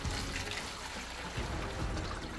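Honey and water for mead pour from a pitcher into bottles, a steady close splashing trickle with a brief shift in flow partway through.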